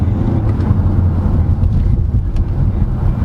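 A 2023 Hyundai Tucson engine accelerating in sport mode, heard from inside as a loud, steady low drone with road and wind rumble and no clear rise in pitch.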